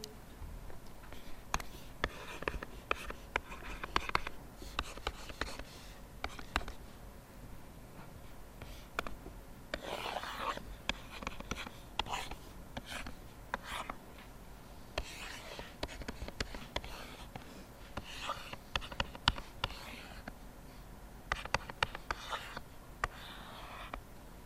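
Marker or chalk scratching out a small hook diagram on a classroom board, a long run of soft irregular strokes and taps with quiet pauses, moderately near, with faint whispering in the background.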